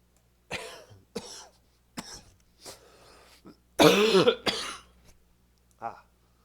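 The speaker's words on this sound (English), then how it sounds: "can't get rid of this cough" Several dry coughs and throat clearings, close and separate, with one harsher fit of coughing in the middle and quiet pauses between.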